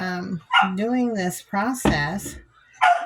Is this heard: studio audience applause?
no